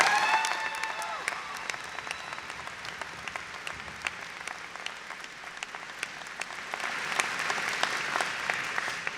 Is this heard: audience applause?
yes